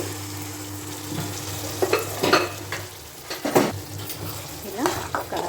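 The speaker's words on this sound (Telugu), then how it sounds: "పన్నీరు ఇట్లా కొంచెం వేగనివ్వాలి." Paneer curry with tomato, onion, green chilli and masala paste sizzles and fries in a pan while a spoon stirs and scrapes in irregular bursts, close and moderately loud.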